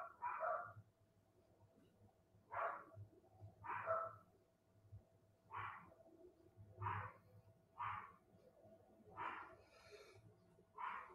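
Dogs bark in a series of about ten separate barks spaced a second or so apart, moderately distant, over a low background hum.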